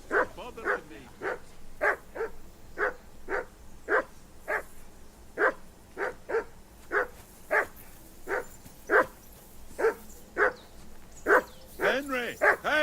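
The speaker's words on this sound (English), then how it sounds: "call off that mutt of yours" A dog in the Assassin's Creed Mirage video game barks over and over in a steady, insistent rhythm, loud and close, with a whimpering yelp at the end.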